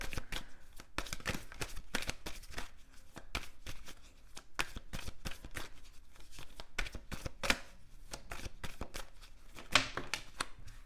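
Tarot cards shuffled by hand at close range, with rapid bursts of crisp riffling and snapping repeated in quick, uneven succession, alone and fairly quiet.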